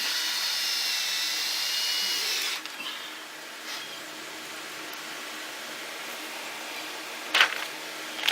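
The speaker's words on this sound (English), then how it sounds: "Drill it into the PVC pipe through the other board." A power drill whirs steadily at close range for a couple of seconds, driving through a board into PVC pipe, then stops, leaving quiet handling noises and a brief sharp click.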